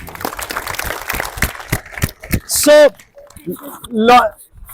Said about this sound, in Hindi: एक बार फिर से ताली बजाओ इसको।